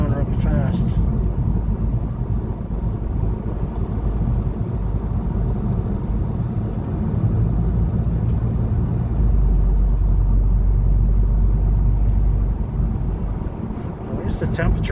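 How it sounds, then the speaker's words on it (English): A car coasts fast downhill with the brake released on a snowy Norwegian mountain road between Oslo and Bergen, a loud steady road and wind rumble filling the cabin throughout. "let up off the brake and the freaking car coast down real fast"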